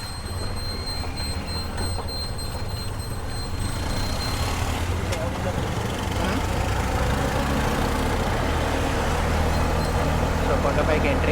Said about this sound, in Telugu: సో ఆటోలో అయితే వెళ్తున్నాం మనం ఇప్పుడు